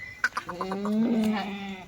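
Kathiawari goat bleating in a few short calls and then one long wavering bleat, close and fairly loud, with no talk over it.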